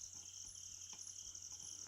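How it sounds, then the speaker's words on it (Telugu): Steady cricket chirping at night in a forest, a continuous high-pitched insect trill with faint pulsing, moderately quiet and alone without voices. "ఆ పురుగు సౌండ్ వస్తుంది"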